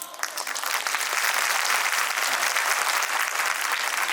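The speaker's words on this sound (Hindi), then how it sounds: "शायद आपकी तालियां कम हैं।" An audience at a state-level LIC Bima Sakhi conclave bursts into applause that swells quickly and holds as a dense, steady clapping through the short stretch.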